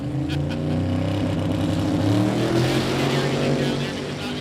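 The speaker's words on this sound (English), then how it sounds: "he's got some loud cars next to him" Loud drag racing cars idle and rev at the starting line at Sick Week 2022 in Bradenton, a thick, rumbling engine drone with layered exhaust tones that stays close and constant throughout.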